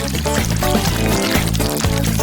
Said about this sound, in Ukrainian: Так, залишилось тільки додати соус. Краще всього взяти фірмовий. Наливаємо і чим більше, тим краще.